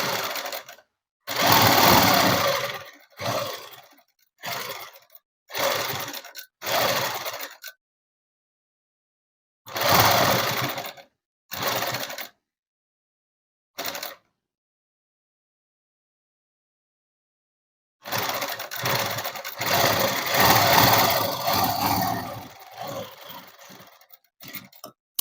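A sewing machine stitches net cloth for a dress in several short bursts and a few longer runs, close and loud, separated by pauses of silence.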